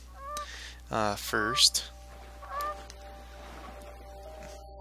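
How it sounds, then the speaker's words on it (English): Geese in the survival video game The Forest honk loudly in a quick burst of several calls as they fly off through the woods, over a low steady background hum, with a brief spoken word near the start. "I always love seeing the geese fly off"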